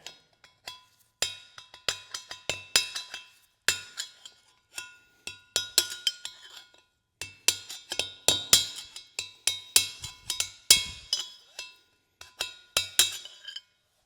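A 12-inch by half-inch chisel is hammered against the lip of a bearing housing on a Case 1840 skid steer, producing many sharp metallic clinks in quick uneven bursts, loud and close, with brief pauses between runs of strikes.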